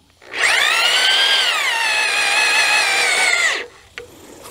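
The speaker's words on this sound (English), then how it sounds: "Now I'm being very careful when I'm drilling" A power drill bores through a wooden rafter in one steady high-pitched whine lasting about three seconds, then cuts off abruptly, followed by a faint knock.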